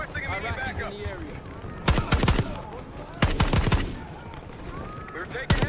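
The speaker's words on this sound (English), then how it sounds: "We're taking heavy fire at the helo." Gunfire in the Call of Duty Black Ops 6 campaign, with loud bursts of automatic fire cracking out in three separate volleys, over steady battle noise and radio chatter.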